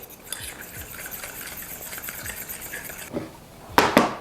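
Milk mixture being mixed into pumpkin dinner roll dough, giving soft intermittent stirring and scraping in a bowl, then a couple of louder clinks and clatters near the end. No one speaks.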